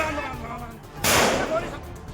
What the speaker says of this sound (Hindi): 12 सेकंड के भीतर 7 राउंड फायरिंग की आवाज सुनाई दी।